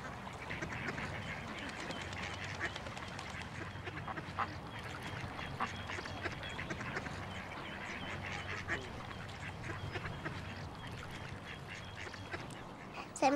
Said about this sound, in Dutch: Er zijn ook een paar ganzen gekomen.